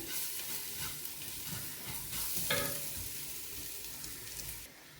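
Chili powder frying in hot oil with steady stirring, a continuous close sizzle with scraping spoon strokes, cooking a spiced curry to go with milk tapioca.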